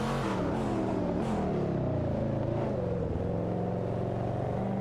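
Koenigsegg engine in an AI-driven racing video game, a continuous loud droning whine with rising and falling harmonics as revs shift, steady and alone.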